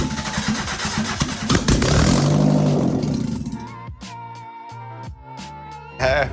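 A Mazda MX5 engine cranks and catches, running rough and loud at first before settling, then dropping away into quieter intermittent sounds and a final burst.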